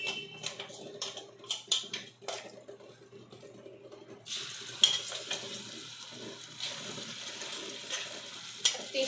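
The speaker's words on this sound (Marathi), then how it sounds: "तेल गरम झालं की त्यामध्ये अद्रक, लसूण, हिरवी मिरचीची पेस्ट टाकायची आहे।" Ginger, garlic and green chili paste fries in hot oil for an egg dum biryani, a soft crackling sizzle under scattered clinks and scrapes of a spoon stirring in the pan, growing fuller partway through.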